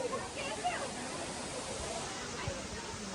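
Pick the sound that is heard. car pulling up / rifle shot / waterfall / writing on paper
waterfall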